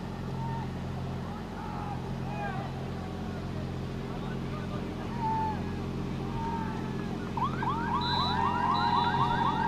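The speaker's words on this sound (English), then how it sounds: "And there's the buzzer." A halftime buzzer sounds near the end at a boys varsity soccer senior-night game between Bolton/Warrensburg and Corinth. Its high steady tone comes over a constant hum of crowd noise and an announcer's voice.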